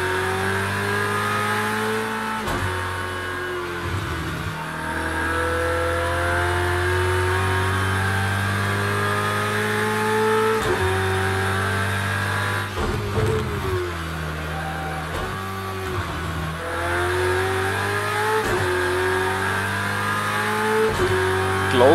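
A GT3 race car in the Project Cars 2 racing game roars loudly as it accelerates, the engine note climbing through repeated rising sweeps with brief drops at gear shifts, continuous and close.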